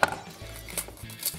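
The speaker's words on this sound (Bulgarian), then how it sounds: "Сега на тази чушка ще отрежа на малки парчета за маринатата" A knife chops a bell pepper into small pieces for a marinade, giving a few quick, close taps on a cutting board in a quiet kitchen.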